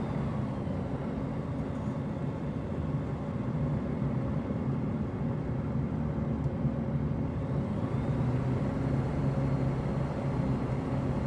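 Steady, moderately loud jet engine drone of a Cessna Citation CJ4 in the flight simulator MSFS 2020, an even continuous hum holding at one throttle setting throughout with no talk.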